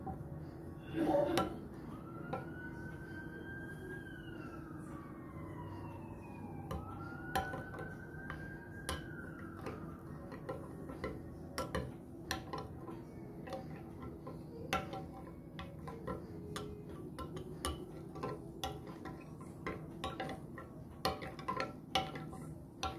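A spoon stirs barley drink powder in a glass, giving a steady run of soft light clinks and ticks that go on throughout, with quiet tonal sweeps in the background.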